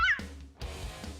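A domestic cat gives a short, clear meow, then a brief pause and a softer trailing sound, heard close and fairly quiet.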